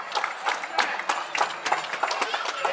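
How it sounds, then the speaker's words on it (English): Irregular slaps of a hand clapping against a waist, sharp and close, repeating in uneven bursts. "I'm just clapping my waist right now."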